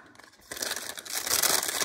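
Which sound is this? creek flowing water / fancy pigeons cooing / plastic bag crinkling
plastic bag crinkling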